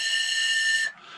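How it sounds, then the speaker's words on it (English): A four-hole ocarina-style whistle sounds one steady, bright sustained note for nearly a second, then cuts off sharply, leaving only a faint breathy tail. "It's a form of whistle. I believe it's probably classed as what you call a four-hole"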